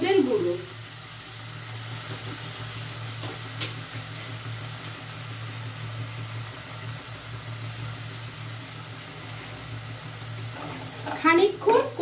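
Ginger paste and turmeric sauté in hot oil for a Bengali prawn malai curry, a steady soft sizzle throughout with a stirring clatter near the start and end.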